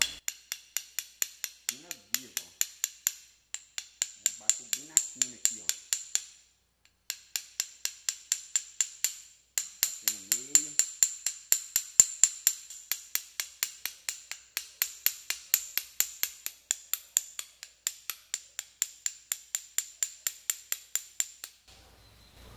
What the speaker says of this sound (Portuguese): Vamos ver o porquê que esse martelo é tão foda